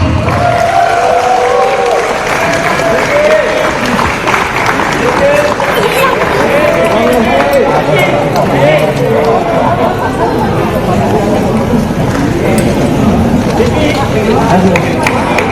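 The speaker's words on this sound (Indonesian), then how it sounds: "Mari kita berikan tepuk tangan yang paling meriah." A crowd welcoming Indonesian athletes home from the Paris Olympics applauds and cheers continuously, a dense wash of clapping mixed with shouting and chatter from many voices throughout.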